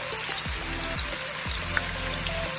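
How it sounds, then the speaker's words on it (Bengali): Chopped onion sizzles in hot oil for a hilsa and Basella spinach dish, a steady broad hiss with a few low knocks, probably from stirring, and no talk. "তেলটা আমার গরম হয়ে গিয়েছে। এবার কিছু পেঁয়াজ কুচি আমি দিয়ে দিব। পেঁয়াজটাকে হালকা ভেজে নিব।"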